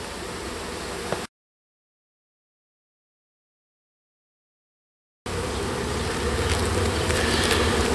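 Honey bees from a package being installed into a Langstroth hive, buzzing as a steady close drone in two stretches separated by a gap of silence, louder and denser in the second part.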